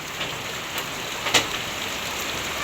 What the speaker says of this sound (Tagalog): At malakas naman po ang ulan dito.